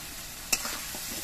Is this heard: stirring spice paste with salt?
yes